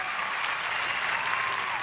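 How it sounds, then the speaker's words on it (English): A studio audience at a live radio show claps on cue, a loud, even wash of many hands held steady through the short stretch with no voices on top. "y'all clap right quick"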